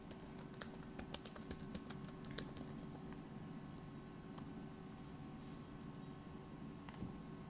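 Someone types on a computer keyboard while filling in a blank document, producing a faint run of quick irregular clicks that thin out into occasional taps over a low hum.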